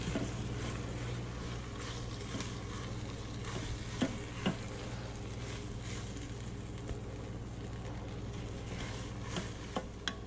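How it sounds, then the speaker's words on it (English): Taco seasoning and tomato paste cook together in a pot for taco soup, a soft continuous sizzle with a few sharp spoon clicks against the pot, fairly quiet and without talk. "I'm going to add the can of tomato paste, stir that together, let that cook good and hot"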